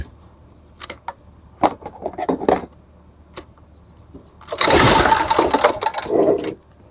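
A generator's pull-start engine is cranked with the choke on, a few sharp mechanical knocks and rattles first, then a loud burst of rough engine noise that sputters for about two seconds before cutting out.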